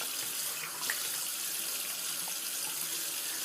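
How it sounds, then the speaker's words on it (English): Tap water runs steadily into a bathroom sink as someone rinses their face after a shave, a continuous close hiss with no voices. "Just going to rinse my face off"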